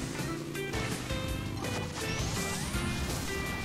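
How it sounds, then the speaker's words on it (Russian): A vehicle crashes in the mobile racing game Hill Climb Racing 2, a loud smashing impact layered over dense, continuous game music and effects that fill the whole stretch. "Разбиваемся, разбиваемся."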